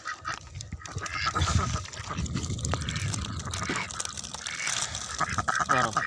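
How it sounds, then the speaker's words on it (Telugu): A flock of ducks, some of them black, quacks and chatters close by in an outdoor setting, with overlapping calls and some background noise. "మొత్తం బాతులు"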